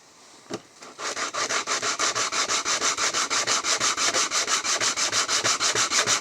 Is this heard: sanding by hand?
yes